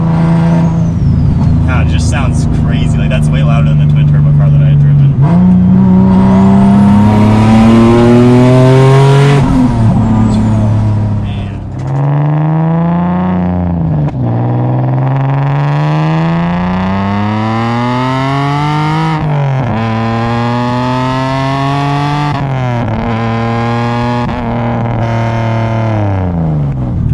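A single-turbo Nissan 370Z engine revs hard and accelerates through rising, falling gear pulls, loud and close throughout with a roaring exhaust tone, while people talk over it.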